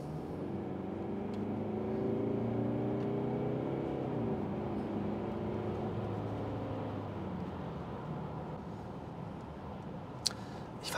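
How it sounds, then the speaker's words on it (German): A Mercedes engine hums steadily, its low drone swelling and rising in pitch as it accelerates on kickdown from about 60, heard from inside the cabin with no talking. "jetzt machen wir einmal Kickdown."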